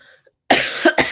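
A person coughs: a few harsh, close bursts in quick succession after a near-silent start, from someone still recovering from an illness.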